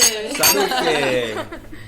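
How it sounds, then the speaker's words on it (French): Glasses clinking together in a celebratory toast at the end of a French podcast episode, a few bright chimes over chatter and light laughter from several people. "allez, on trinque"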